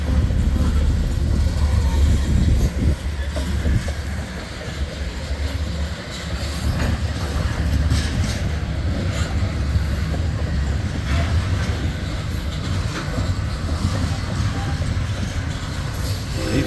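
A freight train out of Council Bluffs' Bailey Yard rolls past nearby with a loud, continuous rumble, wheel clatter and faint squeals, steady throughout.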